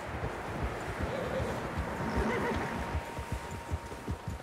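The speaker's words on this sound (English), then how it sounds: "Horses, quite a few of them." Horses in the Red Dead Redemption 2 video game neigh and whinny amid a dense wash of wind and rustling, with faint hoof clops and a low steady background throughout.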